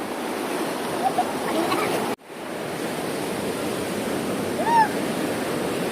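Strong ocean waves at Tumok Beach in Agno, Pangasinan make a broad, continuous roaring wash that cuts out abruptly for a moment and then resumes, loud and close, with no clear talk over it.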